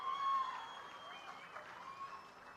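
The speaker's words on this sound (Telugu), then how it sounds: "వాళ్ళిద్దరిని కూడా గట్టిగా చప్పట్లు కొట్టి అభినందించండి" Political rally audience applauding after a call from Chandrababu Naidu, a steady wash of clapping at moderate level with faint crowd murmur, no speech over it.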